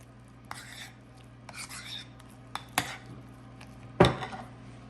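Egg yolk filling for deviled eggs whipped in a bowl, heard as a few scattered scrapes and clinks of a utensil against the bowl over a steady low hum, with one sharper knock near the end.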